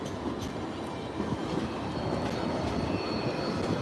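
A crowded light rail tram rolls along, giving a continuous loud rumble and clatter of wheels on track with faint metallic squeals, steady throughout with no talking.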